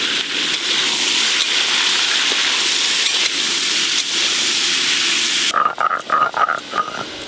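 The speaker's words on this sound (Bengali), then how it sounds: "মূলো, আলু, ওলকপি আর বাদ বাকি সব সবজি একসঙ্গে ভেজে নেব" Radish, potato, kohlrabi, carrot and other winter vegetables fry together in a pan with salt and turmeric. A steady, loud sizzle hisses throughout, then gives way to a few clattering stirs near the end.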